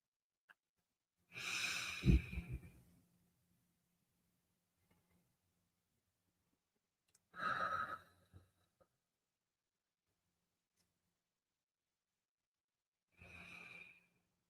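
Slow, deep meditative breaths, three long exhale-like rushes of air spaced several seconds apart, close and clear with near silence between them.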